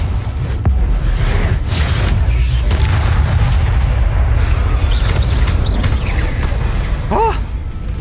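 Blasting-spell explosions from Hogwarts Legacy boom heavily and continuously, a dense low rumble of repeated blasts with crackling bursts on top, loud throughout, with brief glimpses of a player's voice.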